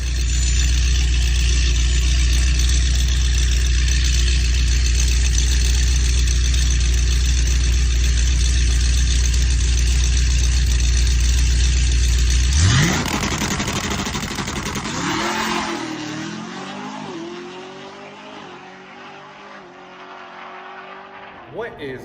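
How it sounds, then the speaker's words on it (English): A Cadillac CT5-V Blackwing drag car holds a loud, steady engine drone, very near. After about twelve seconds it revs and winds down into rising and falling tones and then fades away. "Cadillac running 8-second quarter miles."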